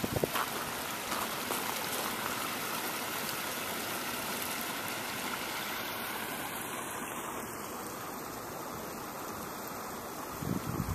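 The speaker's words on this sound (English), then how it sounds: "Look at this beaver dam." Stream water flowing at a beaver dam makes a steady, even rushing and gurgling, fairly near and unbroken throughout, with no voices.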